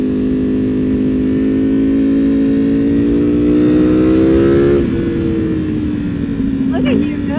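A Ducati Panigale V2 Bayliss sport motorcycle engine revs and climbs steadily in pitch as it accelerates, then briefly drops and picks up again, loud and close.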